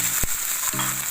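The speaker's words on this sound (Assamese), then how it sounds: "মাছখিনি কাঢ়ি সেয়া তেলতে মই পিঁয়াজখিনি কুটি পেলাই দি লৈছোঁ" Chopped onions fry in oil left over from cooking fish, giving a steady close sizzle with brief knocks from a utensil stirring the pan.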